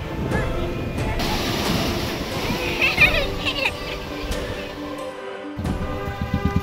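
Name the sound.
sea waves at Digha beach in the evening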